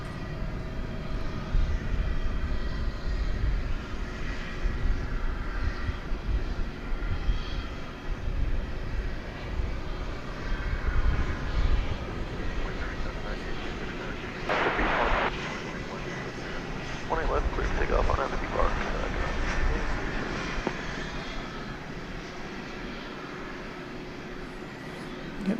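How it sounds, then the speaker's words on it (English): An American Eagle CRJ 701ER regional jet passes at night at Dallas Fort Worth airport, a moderate, sustained engine rumble with a faint whine, while a person talks intermittently over it. "American Eagle Flight 4906, a CRJ 701ER, is just about to say hello to us."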